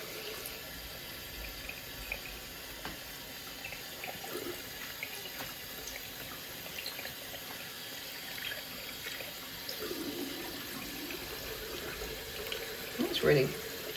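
Water runs steadily from a kitchen sink tap as yarn is set to soak, a constant close splashing stream with a brief clatter near the end.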